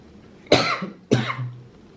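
Two sharp coughs, close and loud, about half a second apart, come from a person right after a hit from a vape.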